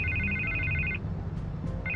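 A telephone rings in a Batman video game, giving a bright warbling electronic trill that sounds for about a second, pauses, then starts again over a low ambient rumble. No one speaks.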